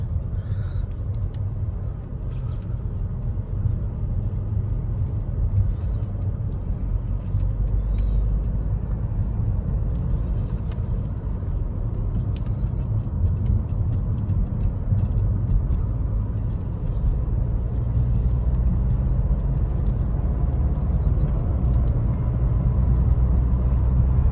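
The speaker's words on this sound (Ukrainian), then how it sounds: "їде гарненько, рівненько, тихо. БМВ йде така дуже устойчива на на дорозі." A 2020 BMW 520d Sport-Line rolls steadily along a road, giving a continuous low cabin rumble of engine and tyres that stays even and smooth throughout, with no talking.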